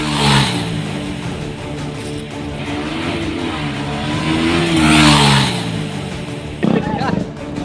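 Motorbike engines revving on a road as youths perform stunts, a loud sustained roar with rising and falling pitch, swelling louder mid-way, with a sharp burst near the end.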